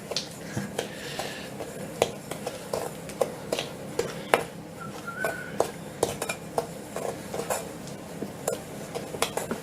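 Cake ingredients being mixed into a paste in a kitchen bowl, giving repeated clinks and scrapes of a utensil against the bowl in an uneven, steady rhythm. The sound is close and moderately loud, with no talking.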